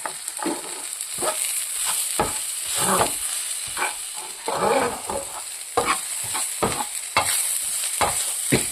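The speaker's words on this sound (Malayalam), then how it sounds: "എല്ലാം കൂടി ചേർത്ത് നമുക്കൊന്ന് വഴറ്റി കൊടുക്കാം." Garam masala and turmeric sautéed in a pan while a Turkish berry masala curry is made, with repeated scraping stirs over a steady close sizzle of frying spices, no talking.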